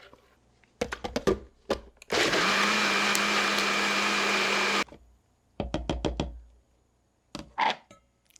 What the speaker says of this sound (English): we're going to blend all this and then return it to the pot